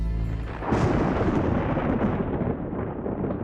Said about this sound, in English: This huge storm has come at the worst possible time, peak hour.